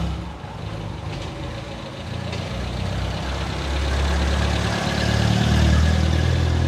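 A Volvo Amazon engine idling, a steady low rumble that grows slightly louder toward the end, with no speech over it.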